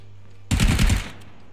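A quick burst of PlayerUnknown's Battlegrounds gunfire, about half a second of rapid, loud, close shots, cuts in over a low steady hum and then stops.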